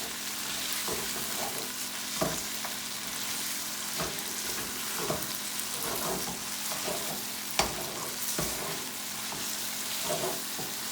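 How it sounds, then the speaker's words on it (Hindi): Chicken karahi fries in hot oil with a continuous sizzle, broken by repeated scraping and knocking as the pan is stirred, with no talking. "अभी हम इसे पकाएंगे, बाद में दूसरा हल्का से भूनने ताकि तेल में इसकी स्मेल निकल जाए"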